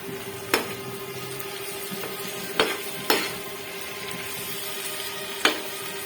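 Tomatoes and green chillies frying in a non-stick pan for masala bhindi: a low continuous sizzle with a few isolated sharp clinks of a spoon, quiet and close, with no voices.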